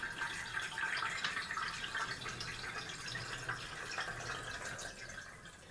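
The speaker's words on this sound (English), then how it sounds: "we run a bit more water through from jug 9 into jug 10" Water trickles and drips steadily from one filter jug into another as tea water is filtered jug to jug, a continuous soft pouring and dripping sound up close with no talking.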